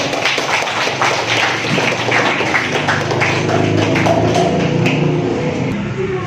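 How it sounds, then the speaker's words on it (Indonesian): Sustained applause from an audience in a classroom after a group presentation, a dense, steady patter of many hands clapping throughout at an even loudness. "Oke, berikan aplaus"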